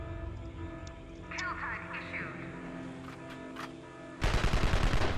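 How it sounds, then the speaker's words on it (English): Sentry guns open fire in the Evil Genius video game, a loud, dense burst of rapid automatic gunfire that erupts suddenly near the end after a stretch of quieter game ambience and scattered effects. "at least he'll come in range of my sentry guns"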